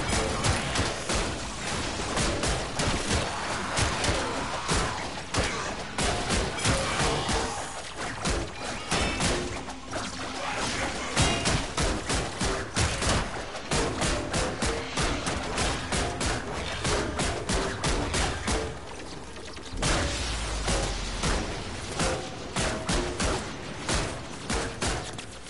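Turret gunfire and explosions from the video game Warframe, a dense, loud barrage of rapid shots and bursts that runs almost without pause, with occasional heavier thumps and no talking.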